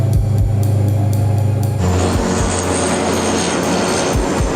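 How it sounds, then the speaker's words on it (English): Aircraft engine power during a landing approach: a loud, continuous droning roar with rhythmic low thumps, swelling into a broader, hissier rush partway through, with no talking. "The captain tells the first officer he'll adjust the engine power during the landing."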